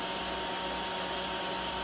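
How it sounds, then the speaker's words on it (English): A toddler's toy lawn mower with a built-in bubble blower runs with a loud, steady motorized whir and hum, unbroken throughout. "Meet the ultimate toddler girl lawn mower, also slash bubble blower."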